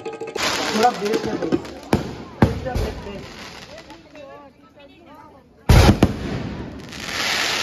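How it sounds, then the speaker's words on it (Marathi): Loud fireworks burst in sharp booming bangs at a Shiv Jayanti celebration in Shahapur, several spaced out over a few seconds, with crowd voices and cheering between the blasts. "आज फटाक्याची आतिषबाजी बघणार आहेत."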